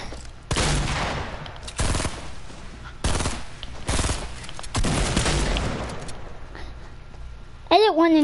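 Bursts of video game gunfire, several loud broadband volleys a second or so apart in a duos match, with players talking over the shooting and a rising synthetic tone at the end.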